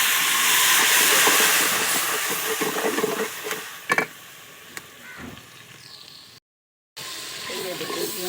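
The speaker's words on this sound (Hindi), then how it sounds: "अब मैं माखन से छौंका" Butter-tempered spice masala with red chillies sizzles steadily in a pot, a loud hissing crackle that fades over the seconds, with a brief knock of utensils partway through.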